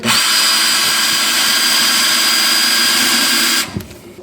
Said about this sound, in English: Locate the position where you want to put the hook and run the drill.